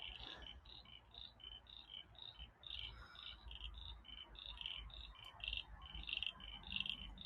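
Frogs call in a wildflower reserve in spring, a steady chorus of rapid high chirps pulsing continuously throughout, close and fairly loud over low rumbling background noise.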